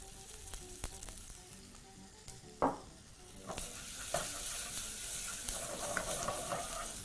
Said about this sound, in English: proceed to mix everything in your pot, of course allowing that beautiful rustic grounding of the meat and that browning of the meat